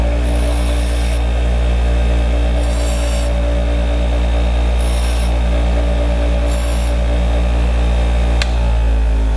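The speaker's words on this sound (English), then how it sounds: "I'm going to be grinding small portions off the edges to raise my note" A power grinder whirs steadily up close while grinding the edges of a jaw harp reed, its hum broken by four short, bright rasping bursts as light pressure is applied, with a small click near the end.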